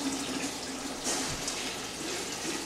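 Water pours steadily into a bucket for making honey wine, a continuous splashing fill at close range with no voices.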